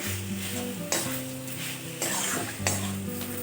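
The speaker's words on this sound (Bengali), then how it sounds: "গরম মশলার গুঁড়ো দিয়ে এখন আমি এই আলু আর চিকেনটা আর একটুখানি কষিয়ে নেব খুব ভালোভাবে।" Potatoes and chicken mince with garam masala frying in a pan, a steady close sizzle broken by scraping stirs and occasional clinks of a spatula against the metal.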